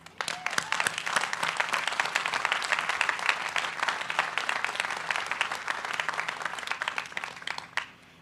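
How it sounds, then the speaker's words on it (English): A large commencement crowd gives the graduates sustained applause at a university ceremony, a dense, even wash of many hands clapping that swells quickly and holds steady before fading out at the end. "the graduates and all the people who supported you through all of that deserve a resounding applause"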